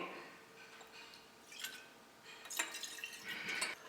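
Berry vodka pours into a cocktail glass in a few soft, wet splashes and trickles, fairly faint and close.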